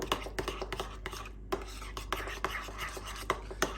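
A spoon works through thick Greek yogurt sauce with lemon juice and mint in a bowl, making quick, rhythmic soft taps and scrapes up close that pause briefly midway.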